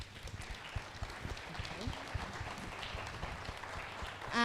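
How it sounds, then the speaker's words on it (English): A crowd applauds steadily for a youth panel at a science day event, a dense wash of clapping at moderate distance that holds evenly throughout. "Can we have a huge round of applause, please"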